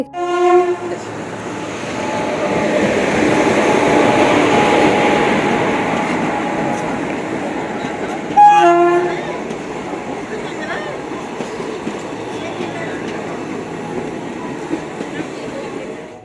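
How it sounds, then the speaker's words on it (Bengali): A train at Azimganj railway station in West Bengal rumbles loudly and steadily, with a horn-like tonal blast sounding midway and a broad station din continuing under faint background voices. "এই যে হচ্ছে আজিমগঞ্জ স্টেশন এখানে পৌঁছে গেছি"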